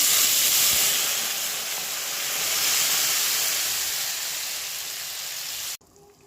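Water poured onto sautéed vegetables in a hot pan sets off a loud, steady steaming hiss and sizzle that slowly eases before stopping abruptly.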